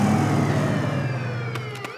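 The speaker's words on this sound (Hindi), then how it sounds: "अरे बाप रे, ये तो पुलिस का सायरन है" A cartoon police siren wails with sweeping, gliding tones over a low engine-like rumble, loud and close, with a couple of sharp clicks near the end.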